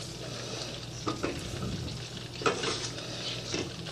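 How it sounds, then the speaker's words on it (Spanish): Flour is cooked and stirred in a pan with vegetables, giving a steady soft sizzle with occasional scrapes and light clinks of the spoon against the pan. "Poner la harina para cocinarla."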